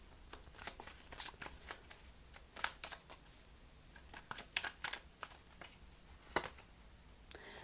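Tarot cards are shuffled and laid out on a table. Soft, close riffling and flicking sounds come in quick irregular bursts at low volume, with no speech.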